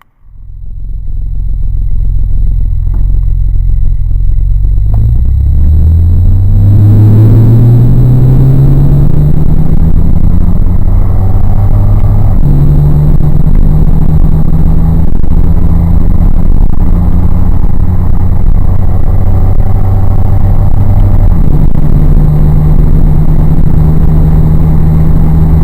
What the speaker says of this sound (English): It's Farrar's repaired angle drive.